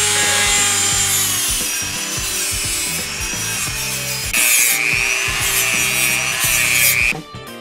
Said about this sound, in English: take my Dremel and I'm going to dress this corner right around here